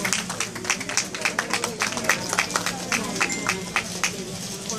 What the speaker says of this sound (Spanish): Un fuerte y cálido aplauso para todos nuestros colaboradores.